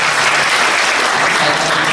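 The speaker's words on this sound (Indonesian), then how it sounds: "Yang setuju boleh tepuk tangan sekali lagi." A church congregation claps in steady, dense applause throughout, loud and close, with no talking over it.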